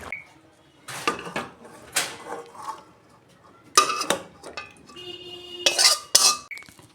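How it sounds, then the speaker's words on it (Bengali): Fish curry poured out of a cooking pot, with a series of close metallic clanks and scrapes of pot and utensil coming in uneven bursts between quiet gaps. "হয়ে গেছে, আমি এবার ঢেলে ফেলবো।"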